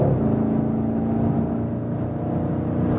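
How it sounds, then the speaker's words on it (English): A premium sedan accelerates hard in sport mode, its exhaust giving a steady low droning roar heard from inside the cabin, fairly loud and continuous with no talking. "Sport mode means we hear more from the exhaust"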